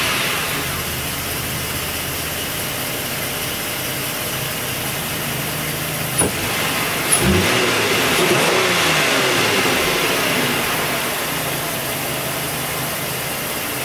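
A 2011 Lincoln MKX with a blown fuse fault cranks and starts partway through, then settles into a steady mid-pitched engine idle after a brief rev, close and clear.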